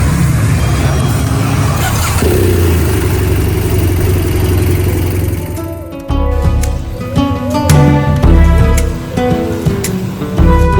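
A repaired motorcycle engine in Venezuela running loud and close, first a dense steady roar, then an uneven idle whose pitch rises and falls as the throttle is blipped.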